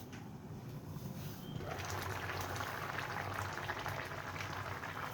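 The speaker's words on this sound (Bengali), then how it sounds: "এটা ফুটে উঠেছে।" Curry with prawns and vegetables bubbles in a pot on the stove, a faint close gurgle that swells into a steady busy simmer after a moment, with no talk.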